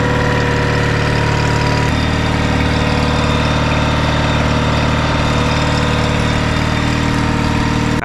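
A knockoff Yamaha four-stroke outboard motor, built with Tohatsu parts and an adjusted carburetor, runs at a steady, loud idle from start to finish with a constant low drone. There's a brief shift near two seconds, and no one speaks.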